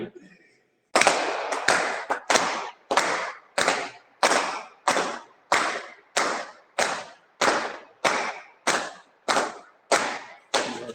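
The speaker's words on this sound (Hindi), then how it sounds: "हल्का सा बजा ले ताली" Light hand clapping during a yoga session: a steady series of about fourteen evenly spaced, soft, close claps following a brief pause, with no talking over them.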